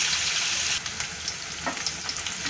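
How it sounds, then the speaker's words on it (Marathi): Sliced onions sauté in a pan as bitter gourd curry is being made, giving a steady close hiss with a few soft stirring scrapes and no voices. "आता कांद्याचा कलर चेंज होईपर्यंत कांद्याला परतून घ्यायचा आपल्याला"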